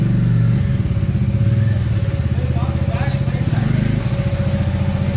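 Bajaj Dominar motorcycle engine running steadily at a service center, a loud low idle rumble with slight revving swells throughout, while people talk nearby.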